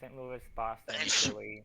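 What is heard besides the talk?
sneeze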